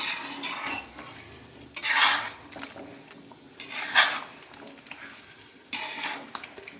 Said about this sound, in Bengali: টক দইটা ভালো করে নেড়ে নিতে হবে